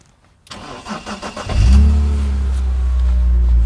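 BMW 330i E46 Touring inline-six cranks for about a second with a few rapid starter pulses, then catches and settles into a steady, loud, close idle with no one talking.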